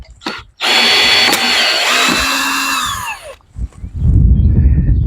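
A power drill backs screws out of a salvaged antique chair under restoration: a loud whining run of about three seconds with falling pitch as it winds down, followed by short clicks and handling noise.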